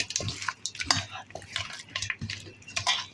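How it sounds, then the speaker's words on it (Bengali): Rohu fish being hand-mixed with salt, turmeric, ginger, garlic and chili, giving soft wet squelches and light clinks of a bowl in an irregular run of close, quiet bursts. "এখন আমি হাত দিয়ে ভালো করে সব মাখবো।"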